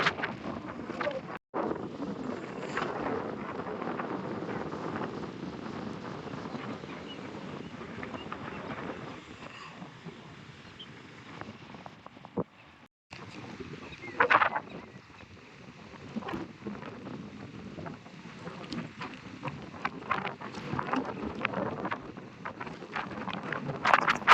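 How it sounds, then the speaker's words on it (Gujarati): Strong wind on a farm field of soybeans buffets the microphone in heavy rumbling gusts, rising and falling, with a couple of brief dropouts. "કેટલો પવન આવે, પવન બહુ આવે."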